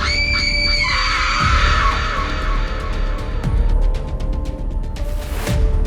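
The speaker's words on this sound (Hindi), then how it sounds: "लोग तड़प रहे हैं, चीख रहे हैं, चिल्ला रहे हैं।" Crowd of people screaming and wailing in agony during a night of toxic gas leak in Bhopal, loud, overlapping cries and shouts with a few bangs, no speech.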